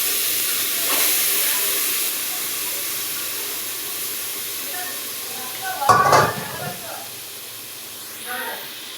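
Spiced mutton curry tempering in a pan gives a faint steady hiss, then a sharp burst of sizzling near the middle and a smaller flare near the end, with a voice speaking at times.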